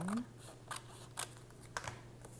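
Scissors trim journal paper in a few soft, separate snips over quiet room tone, close by and faint.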